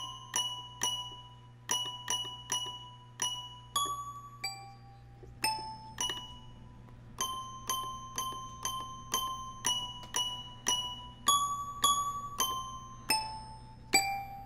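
A toy keyboard plays Jingle Bells, a simple, bright melody note by note, each tone ringing and decaying, steady rhythm, no voices.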